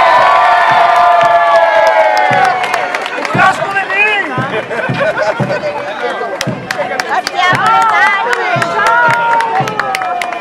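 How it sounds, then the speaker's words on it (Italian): A festival crowd at the Palio di Mogliano Veneto in Mogliano Veneto applauds and cheers continuously, with bursts of clapping and shouts mixed with a loud amplified announcer's voice speaking over the noise throughout. "Salutiamo adesso con un grande applauso"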